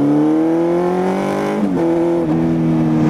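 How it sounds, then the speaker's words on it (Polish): Motorcycle engine running steadily while riding on a road, a loud close drone with gear-like pitch shifts and no talk. "wsiadłem na motocykl i jadę"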